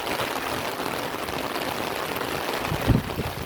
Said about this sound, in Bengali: বৃষ্টি হয়েই চলেছে একটু কমবার নাম নেই